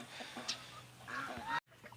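Farm geese honk in a short burst near the middle, fairly close, amid the background noise of a household poultry yard; a brief dropout follows before the ambient sound returns.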